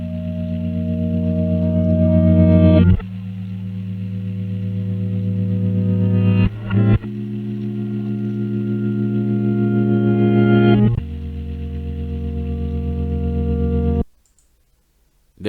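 A music sample pitched down and reversed for an intro, with thick, low sustained chords swelling in reverse and cutting off abruptly several times before ending in near silence.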